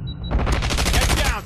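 Rapid automatic gunfire in a Call of Duty match, loud and close, with a dense string of shots running steadily for about a second and a half.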